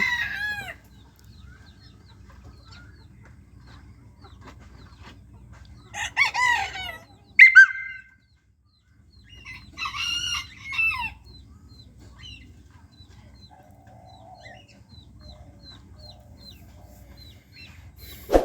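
Small Silver Sebright chickens cluck in short bursts while a rooster lets out two loud crows, with quiet farmyard stillness between calls.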